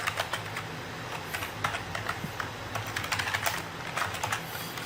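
Numbers being entered on a computer keyboard while a mobile business app runs: a steady stream of light key clicks, close and moderately loud, over a low background hum, with no talking.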